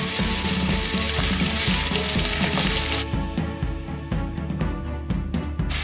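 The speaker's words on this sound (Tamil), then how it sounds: "வெங்காயம் நல்ல பொன்னிறமாக பொரியும் மட்டும் வதங்க விடுவோம்" Onions frying in a pan for mushroom masala, a loud dense sizzle that softens partway through into quieter crackling with scattered stirring clicks, no voices.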